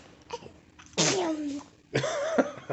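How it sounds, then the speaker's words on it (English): A young boy sneezes twice in quick succession, each a sharp, close burst with a voiced tail, and faint small vocal sounds come before them. "His sneezes are pretty cute."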